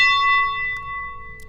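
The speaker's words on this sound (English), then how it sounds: "this last sound is a bell" A sustained bell tone from an emotional trap beat rings out with a bright, pure pitch and clear overtones, slowly decaying over about a second and a half.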